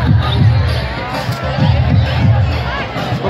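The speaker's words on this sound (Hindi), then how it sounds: "इनके उत्साह के लिए जोरदार तालियों के साथ इसका स्वागत करें।" A crowd at a garba event for the Jay Ambe Maa garba mandal in Ambadochar cheers and claps for a dance group, a loud, continuous swell of voices over a rhythmic low thump of drumming or music.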